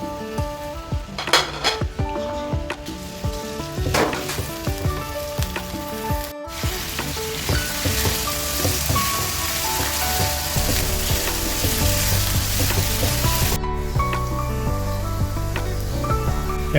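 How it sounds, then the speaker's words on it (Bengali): Onion and dried chilies tempering in hot oil, a loud sustained sizzle with metallic clinks of utensils against the pan, nearby and steady throughout. "বাগারের জন্য পেঁয়াজ এবং মরিচ, শুকনো মরিচ।"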